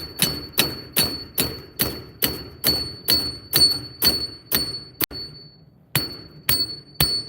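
A hammer strikes rebar pieces in a steady series of about a dozen sharp metallic blows, each with a high-pitched ringing ding, briefly pausing before a few more hits.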